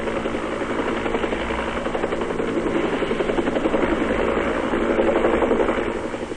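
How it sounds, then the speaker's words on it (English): A Royal Australian Air Force helicopter gunship in the Vietnam War flies close, its rotor beating in a steady rapid thump over a loud turbine whine, holding strong and continuous throughout with no voices. "Aerial assault on the enemy is also shared by helicopter gunships of the Royal Australian Air Force."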